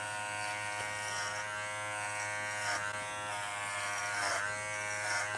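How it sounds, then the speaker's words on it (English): A Kenchi Flash 4-in-1 dog clipper with a quarter-inch guard, set to speed four, runs through a Goldendoodle's thick coat, giving a close, steady electric buzz that changes slightly in pitch as it moves through the fur. "the Kenchi Flash, which is the original 4-in-1 clipper before the Flash 5 existed"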